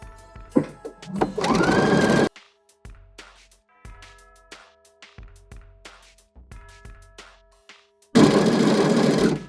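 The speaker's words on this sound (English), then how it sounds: "Let's go ahead and sew up the other side as well." A sewing machine stitching up the side seam of an upcycled fabric gift bag, a loud steady whir at start and end with short bursts of stitching and clicks in between.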